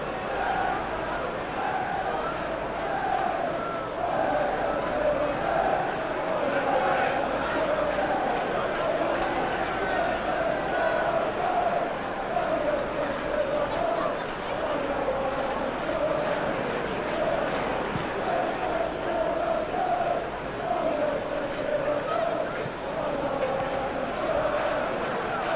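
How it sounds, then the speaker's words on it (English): Simulated football stadium crowd from PES 21 during a Premier League match, West Ham United versus Liverpool: a steady, loud roar of massed voices with chanting swells, continuous throughout. "Maybe the crowd will stay a little quieter next time."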